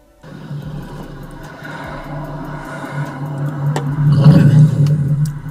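A Mercedes-Benz S500 W220 V8 with a straight pipe exhaust idles with a deep, rough rumble, then swells louder as it revs, up close, with a brief voice.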